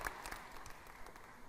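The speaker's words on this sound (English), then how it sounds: "Another round of applause for Dr. Olive" Audience applause following a keynote question-and-answer session, faint and fairly brief, a soft patter of clapping heard at a distance with a hint of room murmur.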